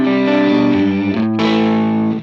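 Electric guitar run through a Line 6 Helix reverb with the treble cranked to an extreme setting, a loud, bright chord ringing with a short slapback-like echo, briefly cut and restruck before fading.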